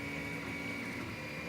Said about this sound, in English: So, this is my new 3D printer.